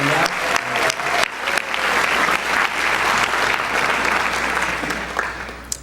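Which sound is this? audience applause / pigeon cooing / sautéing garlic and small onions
audience applause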